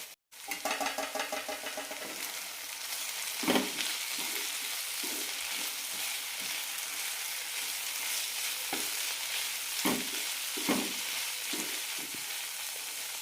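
Yam flower masala curry sizzles and fries steadily in a pan, with scattered stirring scrapes and occasional knocks of a spoon against the pan over a constant close frying hiss.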